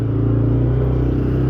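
A 2007 Can-Am Outlander Max XT 400 ATV climbs under load, its engine holding a loud, steady, close drone with a rough low rumble and a faint mechanical clatter, and no one speaking.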